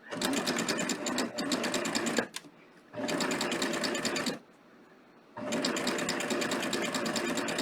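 A sewing machine fitted with a beading foot stitches at a steady moderate pace, close and even, in three runs separated by short pauses.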